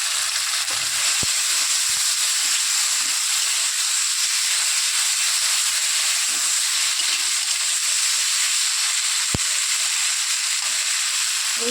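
Ground spice paste fries in hot oil with fish for a homestyle taro curry. A close, steady, bright sizzling hiss runs throughout, with a couple of faint knocks from the pan.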